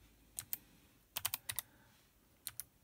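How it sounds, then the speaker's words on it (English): Keystrokes on a mechanical keyboard built into a single-board Pi computer, sharp clicky taps in small bursts: two, then a quick run of five, then two more, close and clear over a quiet background. "type programs with very perfect keyboard"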